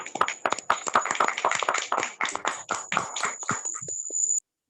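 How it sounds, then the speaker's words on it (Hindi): An audience at a leadership awards talk applauds, producing a dense, continuous burst of many hands clapping up close for several seconds before stopping abruptly, with a thin high whine running underneath. "दीपक जी के लिए तालियां हो जाए।"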